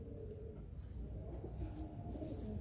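Thorn-necked (kaantedaar) pigeons kept by a breeder in Karachi coo softly at close range, low rumbling calls repeating over a faint background hum, with no one talking.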